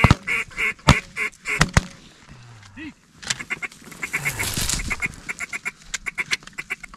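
Ducks and geese call over decoys during a waterfowl hunt, with bursts of repeated quacks and honks, some loud and close, mixed with hunters' voices talking.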